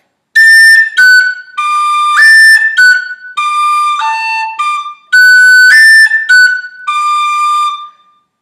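A tin whistle plays the Irish tune Kitty's Rambles in clear, bright phrases with quick tongued and slurred notes and short breath pauses between them, close and alone.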